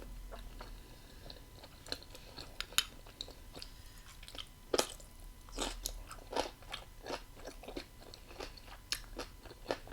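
Crunchy food chewed close to the mic during a mukbang meal, a steady run of sharp crisp bites and crunches with small pauses between them, and no talking.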